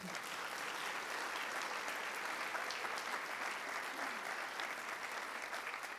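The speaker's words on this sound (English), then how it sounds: "Let's give them a round of applause." An audience applauds at a senior honors night, sustained crowded clapping heard from a distance, even and moderately quiet throughout.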